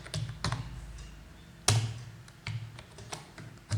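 Someone types C++ code on a computer keyboard: sparse, close keystrokes tapping in an uneven rhythm, with a few sharper clacks standing out.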